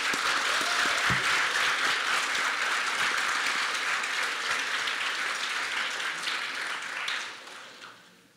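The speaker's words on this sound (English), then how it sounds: "Please join me in a round of applause" An audience at an international student graduation ceremony applauds in a continuous, full round of clapping that fills the hall and then fades out toward the end.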